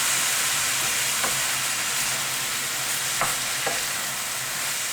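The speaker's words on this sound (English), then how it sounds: "we're going to add the moisture I took off the mince to get it frying in my defective pan" Minced beef sizzling steadily in a defective frying pan with moisture added, a close continuous fry broken by a few sharp scraping taps of a utensil stirring the mince.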